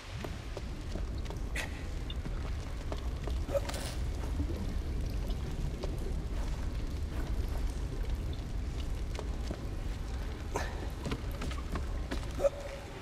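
Water pours steadily in the Valiant Hearts video game, a continuous wash of liquid sound with a few faint clicks and drips, moderately quiet and alone without talk.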